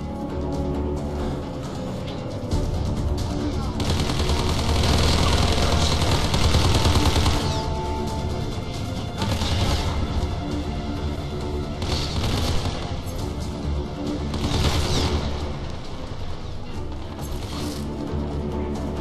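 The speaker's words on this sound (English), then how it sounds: "This is tactical shotgun." Tactical shotgun firing in the Hitman Absolution video game, dense repeated blasts and heavy gunfire over a loud, continuous game soundtrack, with no voice on top.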